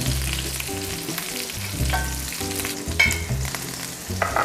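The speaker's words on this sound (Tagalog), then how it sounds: "So I'm going to continue cooking this, the meatballs" Swedish meatballs fry in a pan with a steady, close sizzle and occasional louder crackles and spatters as they cook.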